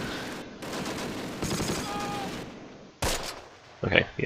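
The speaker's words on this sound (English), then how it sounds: "God, so many machine guns" Machine gun fire in the World War II strategy game Close Combat: Last Stand Arnhem, bursts of rapid gunfire crackling at moderate loudness with brief pauses and a sharp louder burst near the end.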